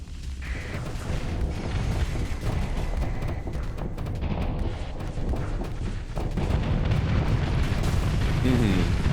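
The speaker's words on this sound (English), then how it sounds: "Just a fucking absolute salvo" Warship main battery salvos in a naval combat game, a dense rumbling wall of heavy booms and blasts rolling on continuously at loud volume, swelling further toward the end.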